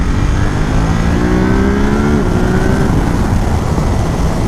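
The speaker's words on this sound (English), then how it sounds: "It's kind of nice downshifting this bike." A 2018 Ducati SuperSport S sport motorcycle engine drops through the gears while riding, its tone stepping down in pitch around the middle under constant loud wind and road roar.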